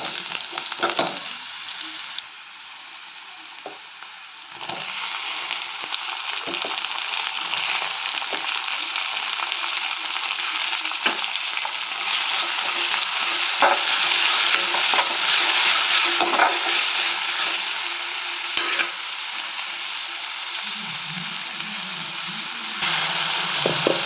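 Onions and tomatoes sauté in a pan for a Tamil Nadu potato poriyal, with a steady, close sizzle that runs throughout and occasional scraping and clinking of a stirring spoon.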